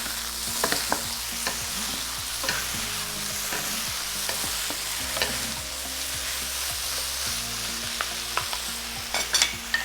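Food fries in a pan while being stirred with a sprinkled pre-made spice, giving a steady close sizzle broken by frequent scraping and clinking of the utensil against the pan.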